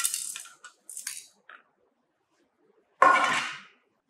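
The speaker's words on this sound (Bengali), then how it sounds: "4 নম্বর সিপ থেকে প্রাপ্ত স্যাম্পলগুলো আমি একটা লিডের মধ্যে ঢেলে আলাদা করে রাখলাম।" Sand sample poured from a sieve into a metal lid during a fine-aggregate test, giving short bursts of gritty, rattling patter: a few brief pours early, a pause, then one louder hiss of grains near the end.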